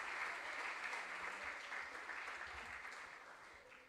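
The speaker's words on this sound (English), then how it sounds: "A round of applause for Nana." Steady audience clapping at a junior science and maths quiz qualifier in Ghana's Ashanti Region, moderately quiet and continuous for several seconds before gradually thinning out.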